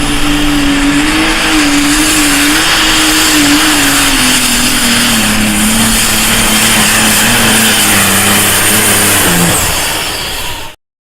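A diesel super stock pulling tractor at a tractor pull roars steadily and loudly for several seconds, a droning engine note that slowly falls in pitch before cutting off abruptly.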